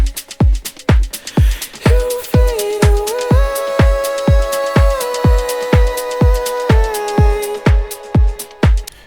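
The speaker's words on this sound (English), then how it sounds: "So obviously layer down some really chunky drums." Chunky drums in a sad pop house track drop, a heavy four-on-the-floor kick thumping at a steady tempo, loud and close, with sustained synth tones gliding above it.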